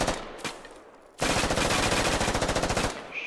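Loud sustained automatic gunfire in the military shooter game Squad, with a couple of isolated shots followed by a rapid, steady burst of close rounds lasting about two seconds.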